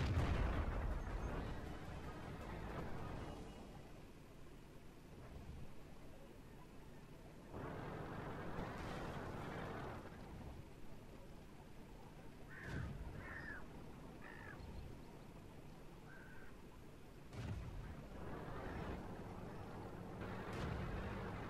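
Tank cannon fire in World of Tanks, a few heavy booming shots spaced several seconds apart over a steady low rumble of engine and battle ambience, with no talking.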